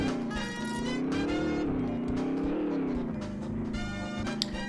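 In the Rocket: Robot on Wheels video game, a racing car's engine hums and revs continuously, a steady droning tone rising and falling slightly in pitch, with a few faint game effects over it.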